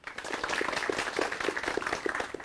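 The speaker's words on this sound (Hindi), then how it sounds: "सबसे पहले हमारे विशेषज्ञों का जोरदार तालियों के साथ स्वागत करते हैं।" Audience applause welcoming the visiting experts at a farmers' sugarcane-cultivation forum in India: dense, steady clapping from a crowd, moderately loud and sustained throughout with no speech over it.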